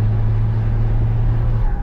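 A Ford F-250 XLT pickup engine with straight-pipe exhaust and a whistling turbo hums low and steady from inside the cab, a constant droning note under road noise, with no talking.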